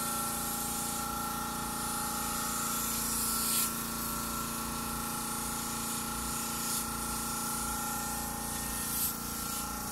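Paint spray gun, used like an airbrush, misting paint onto a car during a repaint: a steady, close, loud airy hiss that runs unbroken, with faint shop noise behind it and no talk.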